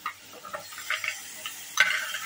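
Vegetables tipped into a pan of frying masala with fish for a fish curry give a quiet sizzle with light stirring taps and clicks, rising to a brighter hiss toward the end.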